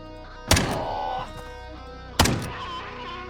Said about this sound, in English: That was a new death sound, I'm pretty sure.